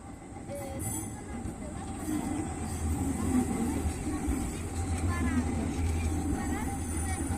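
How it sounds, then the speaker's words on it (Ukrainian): A tram rumbles past close by on Malostranské náměstí in Prague, a steady low mechanical drone with faint wheel squeals and street noise around it. "хай їде ще трамвайчик"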